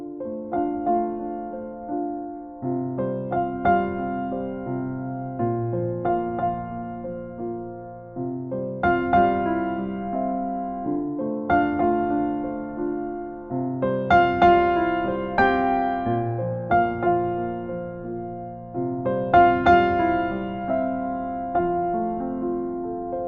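A slow, gentle piano melody over sustained chords, the Titanic intro theme, played alone at a steady, moderate volume with no voices.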